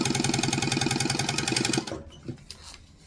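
A sewing machine runs steadily, its needle chattering in a fast even rhythm for about two seconds while top stitching fabric, then stops, leaving a few faint handling clicks and rustles.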